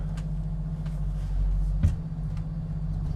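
A car in drive pulling away after a clunk from underneath, giving a steady low engine rumble with one brief louder thump, close by and with no talk.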